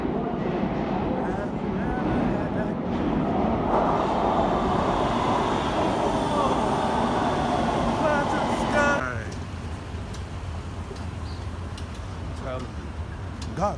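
A metro train rumbles and roars as it pulls into an underground platform, loud and close at first, then easing off as it slows, with people talking nearby.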